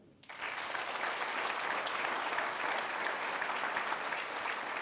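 An audience at a New Year's greetings ceremony breaks into applause, starting abruptly after a quiet moment and holding as steady, full clapping to the end.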